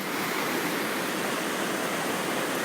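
Düden Waterfall's rushing water roars as a steady, dense, unbroken wash of noise, loud and close, with no voices.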